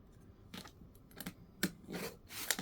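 Scissors trim a scrap of fabric for a corner bookmark: several crisp snipping cuts in short bursts, close by and fairly quiet, with no talking.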